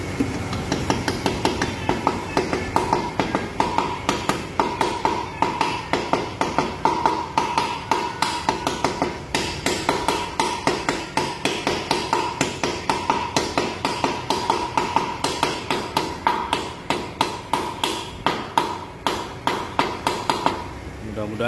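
Bearings are hammered into the CVT case of a Yamaha NMAX 2022 scooter, a long run of fast, even metallic taps about four per second, close and steady, with a faint ringing tone behind.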